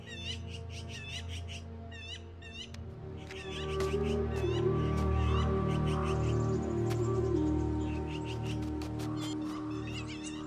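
Magpies call noisily near an animal carcass in a snowy American winter, with repeated chattering, squeaky calls scattered throughout over a dense, continuous layer of other bird and animal sounds.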